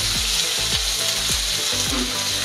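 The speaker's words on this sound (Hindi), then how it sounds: "अब इसमें हम डाल दे रहे हैं प्याज, दो प्याज है कटी बड़ी बड़ी, इसको हम डाल देंगे। अब इसको भून लेंगे," Two big chopped onions sizzle loudly as they fry in a pan for a Hindi home-style arbi leaf curry, with steady broadband frying hiss and several rhythmic stirring scrapes close by.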